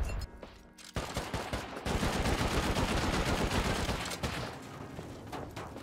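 Sustained rapid gunfire with explosive rounds in a survival video game base raid, loud dense bursts running almost the whole time after a brief quieter start, with no talk over it.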